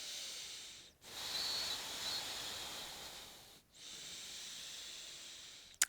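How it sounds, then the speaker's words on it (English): Slow ujjayi yoga breathing, a long, steady oceanic hiss of drawn-out breaths close to the mic, each several seconds long and broken by brief pauses, with no speech. "that diaphragmatic breath into the belly, or that 3-part breath, or that ujjayi breath"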